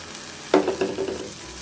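Semolina is stirred in a pan for rava kichadi: one sharp scrape of a spoon followed by a brief, fading sizzle, close and short.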